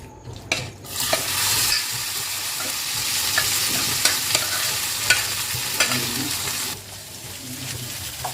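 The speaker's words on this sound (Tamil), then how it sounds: "வேக வச்ச பருப்பு இப்படி தான் இருக்கும் இது லைட்டாக அது மாதிரி கொஞ்சம் மேஷ் பண்ணிக்கோங்க" Cooked lentils mashed and stirred with ghee in a pan for Chettinad sweet seeyam, giving a steady wet scraping and soft sizzle with a few sharper clicks of the spoon against the pan, close and alone.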